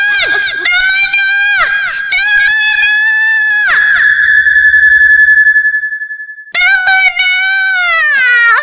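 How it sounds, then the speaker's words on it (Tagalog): A long, high-pitched scream in a Tagalog horror radio drama rises and holds, then cuts off. It comes after a stretch of overlapping shouting voices, and more shrieking follows after a brief silence. "Ikaw ba yung sumigaw?"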